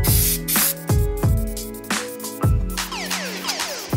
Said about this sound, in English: So when we spray it, we want to make sure we get it along all the edges and the top and cover this whole thing.